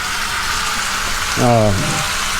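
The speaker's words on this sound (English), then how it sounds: "We're just kind of searing everything up." Chicken wings sear in a hot pan with a steady, broad sizzle throughout, and a short voiced sound rises over it about midway through.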